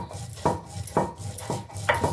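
Salt and cumin being ground by hand, each stroke landing as a sharp grinding knock, four rhythmic strokes close by with a gritty scrape between them.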